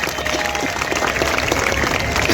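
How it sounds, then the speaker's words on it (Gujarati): Audience applause at a comedy stage event in Gujarat, a dense, steady wash of clapping from a crowd, loud and continuous throughout. "આવી દીકરીઓ માટે એક દિલથી જોરદાર તાળી થવી જોઈએ"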